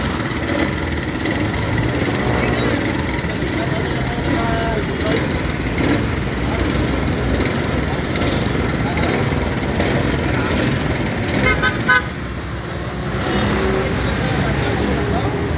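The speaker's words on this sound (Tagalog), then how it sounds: "ito yung tamping rammer na ginagawa namin" Tamping rammer engine under repair running with a rough, steady mechanical drone and rattling, loud and near, with brief knocks and people talking over it.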